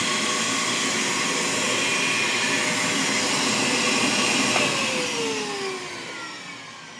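A vacuum pump runs with a steady, loud whine and hiss during a leak test on a John Deere 3038e tractor, then tapers off and fades near the end.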